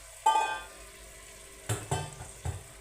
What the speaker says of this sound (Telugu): ఇందాక మ్యారినేట్ చేసుకుని పెట్టుకున్న చికెను ఇందులో వేసుకొని ఇప్పుడు మనం ఏం చేయాలంటే హై ఫ్లేమ్లో పెట్టుకోవాలి